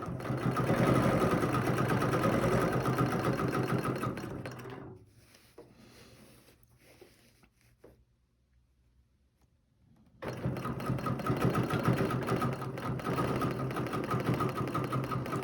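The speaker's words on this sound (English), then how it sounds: "I'm just going to stitch all the way around." A sewing machine stitches all the way around a quick design in steady, fast runs, pausing for a few seconds in the middle before resuming at full pace, close and fairly loud.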